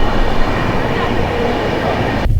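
The Howrah Pune Duronto Express runs through Santragachi Junction, heard from on board as a loud, continuous rumble of wheels and carriages with rattling rail noise, ending with a sudden drop.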